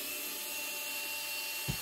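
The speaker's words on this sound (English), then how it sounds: "Use our trusty electric screwdriver," An electric screwdriver backing screws out of a Yamaha YP-D71 turntable gives a continuous close whine that holds steady through the short stretch, ending with a brief low thump.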